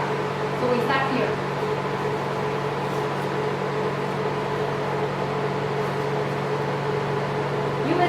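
A NUBWAY cryolipolysis fat-freeze machine running suction through handle B2, a loud, steady mechanical hum and whir that holds throughout, with a person talking over it.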